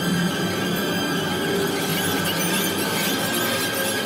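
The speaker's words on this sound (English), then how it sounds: "the filmmakers added ticks and slicing violin sounds to highlight scenes in which a dramatic action was taking place" A horror film score of ticks and sharp, slicing violin strokes forms a harsh, sustained screech of high strings, loud and unbroken across a few seconds, with no voices.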